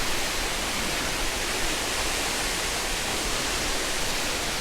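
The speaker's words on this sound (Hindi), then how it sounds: "वाटरफॉल।" A waterfall near the Paro Taktsang trail in Bhutan pours as a steady, dense hiss of falling water, constant and even throughout with no other sounds standing out.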